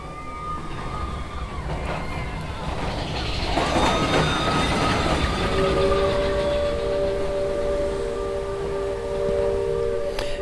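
The Big Thunder Mountain Railroad roller coaster train rumbles along its track with steady mechanical noise, then a sustained high metallic squeal rises and holds over the continuous roar.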